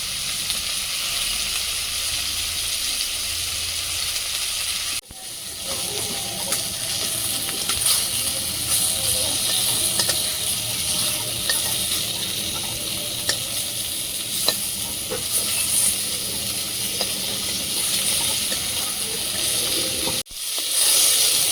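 Fish, including large mustard-style fish and khalse, frying in oil in a pan in a home kitchen, with a steady loud sizzle and crackle running throughout, broken by two brief pauses, with no talk.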